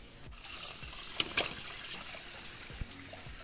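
Rainwater from a harvesting system trickles through a filter into a sump, a soft continuous dribble with a few brief splashy bursts, close and fairly quiet, with no talk.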